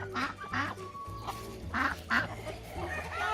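Ducks quack near the young ducklings, several loud, raspy calls in uneven bursts close by, with softer peeps and faint background sounds between them.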